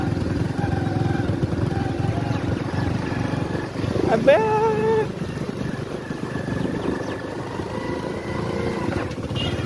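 A motorcycle pushes slowly through deep water on a flooded road, its engine a steady low drone throughout, with a voice shouting and talking nearby over it.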